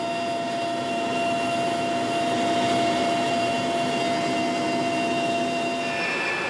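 Steady loud rotor and turbine drone of an ECOMOG military helicopter flying toward Freetown, Sierra Leone, during wartime, with a constant engine whine running unbroken and close throughout, with no voices.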